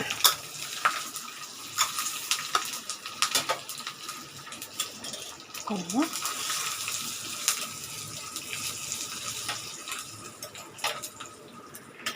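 Cumin seeds, dried chillies, asafoetida and curry leaves hit hot oil for a rasam tempering, making a bright, close sizzle with scattered crackles and pops that rise and ease over several seconds.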